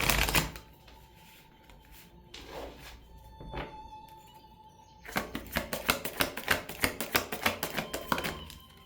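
Tarot cards riffled and shuffled close up, a few soft slides and taps at first, then a rapid burst of rhythmic flicking riffles.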